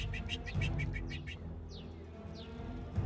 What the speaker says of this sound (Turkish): Bak kuş ötüyor.